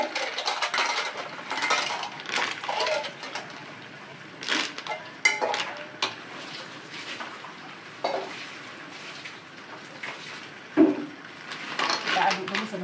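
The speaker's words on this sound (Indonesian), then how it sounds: "Kita aduk dulu sebentar." Clams being stirred with tauco in a pan: repeated scraping and clinking of a utensil against the pan with a faint sizzle, close up, under a speaking voice.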